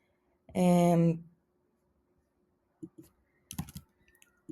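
A computer keyboard is typed on to enter a prompt, giving a few quiet, scattered keystroke clicks after a brief voice near the start.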